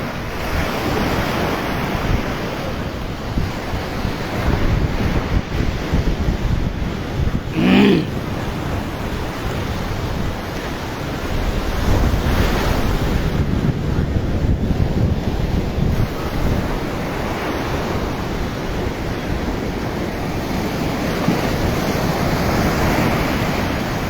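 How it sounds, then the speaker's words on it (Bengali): Large, powerful ocean waves roll and crash steadily onto Chennai beach at night, a continuous close roar of surf mixed with gusty wind buffeting the microphone, with a brief sharper splash partway through and no voices. "বিশাল বিশাল ঢেউ আসতেছে"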